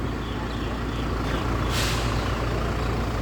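A passenger bus on the Lao–Thai crossing with air brakes: a sharp hiss of released air midway over loud, continuous engine and traffic rumble.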